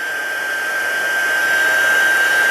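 A Stampin' Up embossing heat gun blows hot air over freshly stamped leaves, producing a loud, steady, close whine and rushing hiss that continues unbroken.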